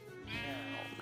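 A Minecraft sheep from the Mo' Creatures mod bleats once in a drawn-out, wavering cry lasting about a second, close and fairly clear, with faint game ambience beneath.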